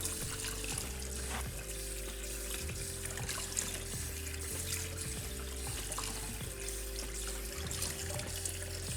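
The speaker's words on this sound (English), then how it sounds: "I'm going to keep the cold water running while I do this" Cold tap water runs steadily into a kitchen sink while soft-boiled eggs are peeled, making a quiet, continuous wash of splashing, with faint clicks and light handling noises throughout.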